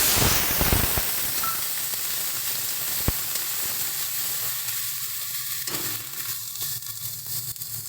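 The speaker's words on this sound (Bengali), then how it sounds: "তেলটা গরম হয়ে গেলে এর মধ্যে আমরা পেঁয়াজ বাটা দিয়ে দেবো" Onion paste hitting hot oil in a wok for a katla fish masala fry gives a loud, steady, hissing sizzle that starts strong and settles into a constant crackle, with no voices.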